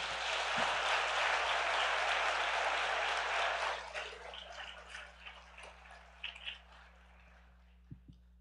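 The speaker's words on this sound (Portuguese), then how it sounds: "Você pode aplaudir o Senhor bem forte?" Church congregation at an evening couples' service applauds loudly for about four seconds, a dense wash of clapping that then thins into scattered claps and trails off over a low steady hum.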